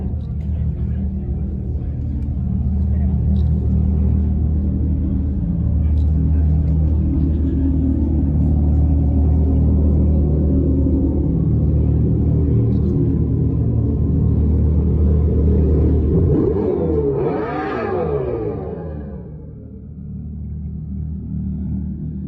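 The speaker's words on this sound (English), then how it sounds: "it doesn't sound like an actual V8 obviously, but it sounds more like an electrified engine" A 2024 Dodge Charger Daytona SRT electric muscle car gives a loud, steady synthetic engine rumble for about sixteen seconds, then a short swelling rev near the end before dropping back to a lower hum.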